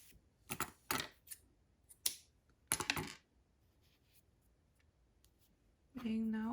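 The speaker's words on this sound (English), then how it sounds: "After I wrap the yarn around my fingers 20 times, I am going to cut the yarn." Scissors cutting crochet yarn while making a keychain: several crisp, separate snips close by in an otherwise quiet room, followed at the end by a voice starting to speak.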